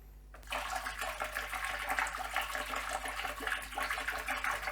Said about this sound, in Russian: выливаю весь оставшийся уксус в бачок